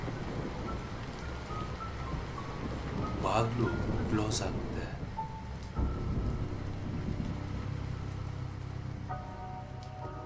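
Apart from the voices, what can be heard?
heavy rain pouring outside with thunder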